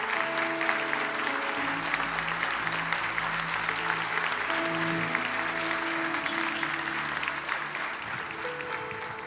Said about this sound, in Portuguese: Quem sabe nós poderíamos dar uma salva de palmas para esse grupo tão especial?